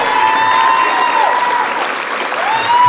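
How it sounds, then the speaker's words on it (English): Gala dinner audience applauding warmly for a retiree, a full, even roar of clapping with a faint whistle or tone threading through, close and loud throughout. "One more big round of applause for April Brandley."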